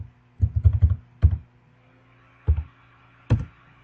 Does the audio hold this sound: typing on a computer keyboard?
yes